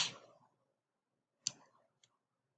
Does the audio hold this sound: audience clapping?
no